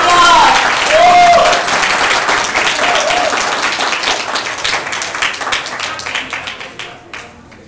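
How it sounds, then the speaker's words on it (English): A crowd at an anniversary gala applauds the two MCs, a loud dense wave of clapping with cheering whistles early on, gradually thinning into scattered claps as it fades out. "Please give them a round of applause."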